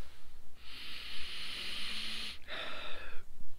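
Someone takes two long, close sniffs at a glass of GRIMM Maximum Delight double IPA, the first a steady hissing inhale and the second shorter, over a soft, noisy background.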